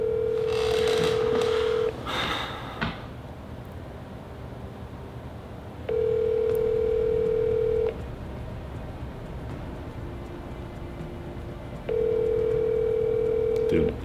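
A phone call rings out while waiting for an answer, with steady tone bursts of about two seconds repeating at even intervals, clear and close, and people talking over the start.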